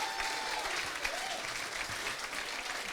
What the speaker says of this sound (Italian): Un altro applauso, dai.